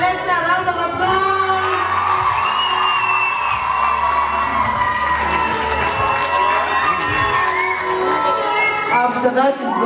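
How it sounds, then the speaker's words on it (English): A school graduation crowd cheers and whoops for the primary coordinator, loud and continuous, with children shouting and excited voices layered over the clapping throughout. "Round of applause."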